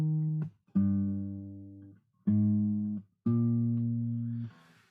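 Low sustained single notes played on a guitar trace a song's bass line in four phrases separated by brief gaps, close and unaccompanied, no talking.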